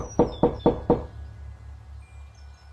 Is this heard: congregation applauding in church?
no